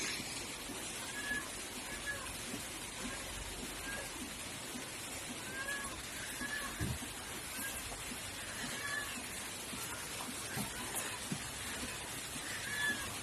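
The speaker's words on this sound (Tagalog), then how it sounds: "Cat." A pet cat meows repeatedly in short, fairly faint calls spaced a second or two apart over a soft hiss of background noise.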